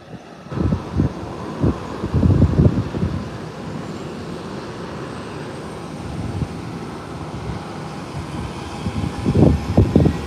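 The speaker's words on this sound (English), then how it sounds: "here is the Beechcraft 1900 that has been ready for 5 minutes now. It's now taxiing on the ramp, heading to the taxiway holding point" A Beechcraft 1900 turboprop taxis on an airport ramp toward the holding point, its engine drone steady and moderately distant, with wind buffeting the microphone and louder rumbling bursts near the start and end.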